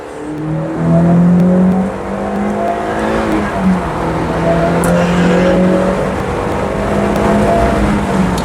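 A Mazda Miata GT's engine revs while driving, a steady climbing engine tone that rises and holds under acceleration, heard from inside the car with road and wind noise beneath it.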